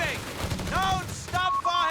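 Grenade explosions and gunfire in Company of Heroes 3, a loud, dense burst of rapid shots and blasts crowding a short stretch, with a voice calling out over the combat.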